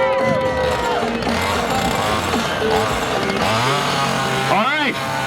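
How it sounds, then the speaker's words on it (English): A chainsaw runs steadily during a chainsaw juggling act at a variety circus show, its buzzing whine rising and falling over a noisy crowd, with voices and whistle-like sounds on top. "Are you guys ready to see chainsaw juggling?"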